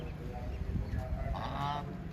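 Ducks on a dairy farm giving a few faint nasal honking calls over a low background rumble, brief and somewhat distant.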